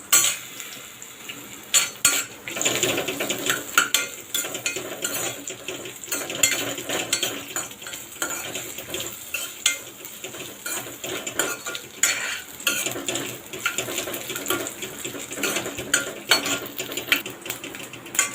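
Dry coconut roasts in a pan while a utensil scrapes and stirs it repeatedly, producing an irregular stream of metallic clinks and scratches over a faint sizzle.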